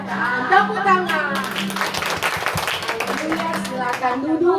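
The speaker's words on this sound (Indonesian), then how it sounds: "Tepuk tangan." Children and a church congregation clap their hands together in a steady, lively patter, mixed with voices and singing throughout.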